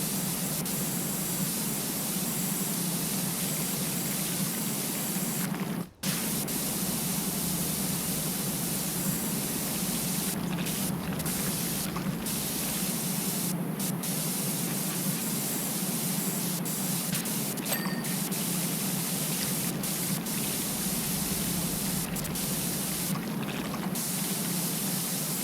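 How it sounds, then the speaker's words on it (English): Steady hiss of a pressure washer spraying water in a cleaning video game, running continuously and loud for the whole stretch with one brief break partway through. "Alright, let's just spray all their shopping as well."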